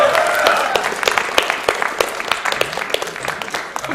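Applause greets a Mega Man 7 boss kill during a speedrun at a charity gaming marathon, a few people clapping in quick, uneven bursts over a steady background murmur.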